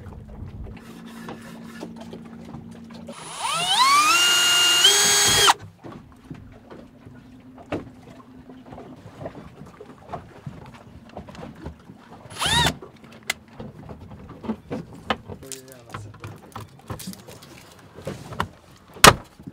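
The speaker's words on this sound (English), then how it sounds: "The plan is to basically drill some holes here and install it" A power drill boring holes for a wall-side installation whirs in one loud, steady burst lasting a couple of seconds, then gives a brief second spurt, with quieter workshop clatter and handling noises in between.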